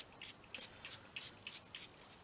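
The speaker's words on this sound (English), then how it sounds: "I'm going to spray it with a tiny bit of water" Six or seven quick, soft spritzes of water from a spray bottle onto velvet ribbon, each a short hissy puff with brief pauses between, close and fairly quiet.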